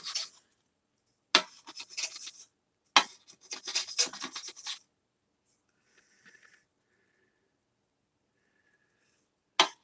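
Steel chisel scraping old material off a 3D printer bed, heard as a few short bursts of dry rasping and scratching with pauses between them, close and fairly quiet.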